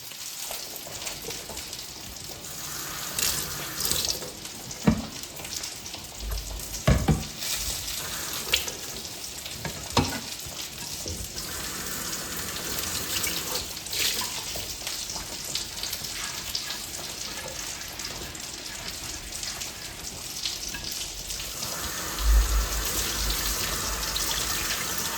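Polish chicken frying in a pan gives a constant soft sizzle, broken by clinks and scrapes of stirring and a stretch of running tap water, all fairly quiet and close.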